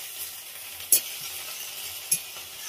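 Shushni saak greens frying in a pan, a steady soft sizzle with two sharp clinks of a utensil against the pan, close and moderately quiet, with no talking.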